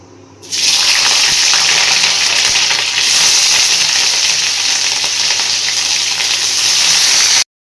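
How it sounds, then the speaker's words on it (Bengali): Bitter gourd hits hot oil in a pan and bursts into a loud, dense, hissing sizzle that holds steady for about seven seconds before cutting off abruptly, with no speech. "এই যে এবার করলাটা ভাজবো।"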